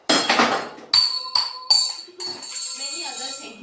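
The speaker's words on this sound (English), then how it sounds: "When I put this glass on a table, it bangs and it shows a certain noise." A glass set down on a tabletop three times, each landing a sharp bright clink with a lingering ring, followed by talking.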